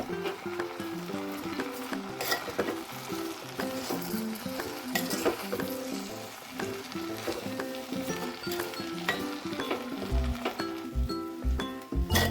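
Cooked jackfruit seeds and prawns stirred together in a pan, with steady scraping and clinking of a spoon over a soft sizzle, and a few louder low knocks toward the end.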